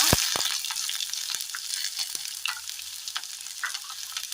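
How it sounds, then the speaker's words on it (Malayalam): Loud, bright sizzling of sliced onions added to hot oil with spluttering mustard seeds, opening with sharp crackles, then settling into a steady hiss with scattered pops. "കടുക് പൊട്ടി വരുമ്പോൾ അതിലേക്ക് സവോള ചേർത്ത് കൊടുക്കുക"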